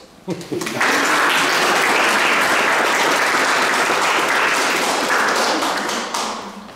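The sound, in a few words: audience applause at a photo exhibition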